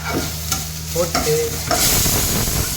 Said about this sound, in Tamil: நல்லா கிண்டணும். லோ ஃப்ளேம்லேயே இருக்கணும்.